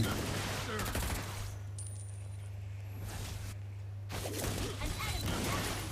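Gunfire from the hero Granger in the mobile game Mobile Legends: Bang Bang, heard as rapid bursts of crackling shots at the start and again toward the end, with a quieter stretch in between, all over a steady background hum.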